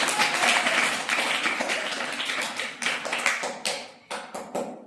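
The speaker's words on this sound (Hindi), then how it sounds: "अनुभव के लिए जोरदार तालियां।" Children applauding together in a classroom, a dense burst of clapping that thins into scattered final claps, close and moderately loud.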